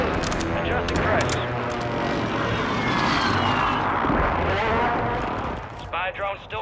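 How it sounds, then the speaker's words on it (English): Aircraft drone in a Call of Duty match, a loud sustained engine roar mixed with bursts of gunfire and battle noise, with voices talking over it near the end. "UAV going up."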